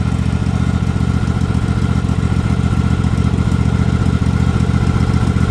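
A Husqvarna mower engine runs steadily at idle, with oil burning out of the muffler and fuel mixing into the oil. The engine note is loud, close and continuous, with a rough, rapid clattering throb throughout.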